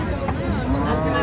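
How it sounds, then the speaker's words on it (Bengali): A Jersey dairy cow at a rural cattle market gives a short, close, drawn-out low moo, with faint background noise underneath. "এই যে জার্সি একটি দুধের গাভী দেখেন"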